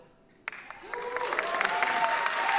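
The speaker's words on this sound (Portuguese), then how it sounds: "Eu estava aí nesse momento das palmas" A crowd claps in a room, starting with a few scattered claps and building into steady, dense applause. Voices and a sustained tone run underneath.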